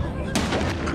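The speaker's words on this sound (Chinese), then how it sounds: "回宫方向发生爆炸" A sudden explosion in a Chinese period drama, on the route back to the imperial palace, bursts in loud and broad after a moment of low background sound, then rumbles on with crackling debris.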